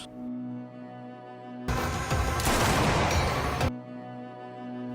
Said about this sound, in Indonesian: Raja langsung menembak kepala Bika hingga tewas